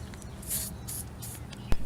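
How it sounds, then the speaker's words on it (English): Three short hissing bursts of aerosol penetrating oil sprayed onto the rear strut bolts and nuts of a 1997 Buick LeSabre, spaced evenly apart, close to the mic, followed by a brief clunk near the end. "spray down these 2 bolts and nuts with penetrating oil"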